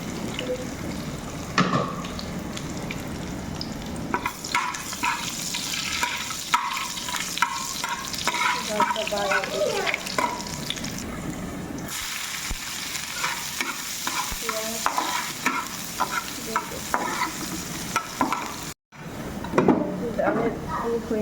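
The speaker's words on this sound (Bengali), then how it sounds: "দুইটা তেজপাতা তারপর আছে জিরা রসুন দিয়ে দিলাম ডাল বাগারের জন্য" Bay leaves, cumin and garlic frying in hot oil for a dal tempering, a busy close sizzle with stirring and clinks, with a voice heard faintly in places and a brief dropout near the end.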